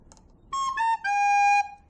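A recorder played in the standard school manner, three piercing high notes stepping downward, the last one held, loud and close and heard alone.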